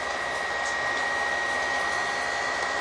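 The cooling fans of an Xbox 360 run at a steady, loud whooshing hum with a faint high whine, unbroken throughout and with no talk.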